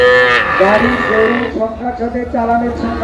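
Young Sahiwal calves moo repeatedly at a busy cattle market, several drawn-out bellowing calls following one another over a continuous crowd murmur.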